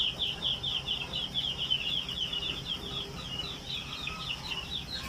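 Pet birds in a cage, likely domestic fowl, give a steady run of high, repeated chirping calls over low background hum, with no talk.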